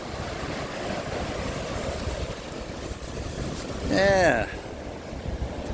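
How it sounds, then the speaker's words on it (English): Wind gusting at a beach shore, a continuous low rushing buffet with surf-like roar, and a brief voice partway through. "What, it's so windy out here?"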